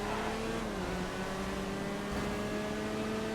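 Small buggy engine in GTA FiveM random racing, holding a steady revving drone with a slowly shifting pitch, loud and close throughout.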